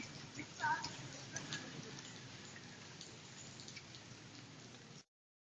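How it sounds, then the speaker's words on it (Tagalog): Steady rain falling, a dense continuous hiss of drops lasting about five seconds before cutting off abruptly, moderately loud and even throughout with a faint brief voice-like sound near the start. "Umuulan kaya dito."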